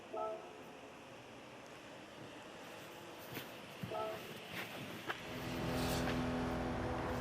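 Porsche Cup race cars at Catalunya in Gran Turismo 7, a pack of engines droning and whooshing steadily, with a few sharper passes and a louder swell of revving toward the end.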